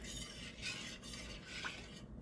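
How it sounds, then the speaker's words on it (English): Milk being stirred into homemade dairy-free mushroom soup in a pot, faint soft swishes and light spoon scrapes in slow strokes, quiet and close. "I'm just going to stir it till it gets all nice and loose."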